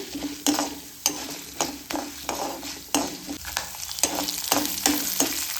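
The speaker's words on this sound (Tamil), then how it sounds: "பொன்னிறமாக வர வரைக்கும் வதக்கிக்கோங்க." Ingredients sautéed in a pan until golden for South Indian tomato rice: continuous oily sizzle with repeated scraping strokes of a spatula against the pan, close and fairly loud, no voices.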